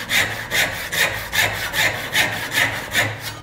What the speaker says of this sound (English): I'll actually get it to where all the teeth are buried in the cut.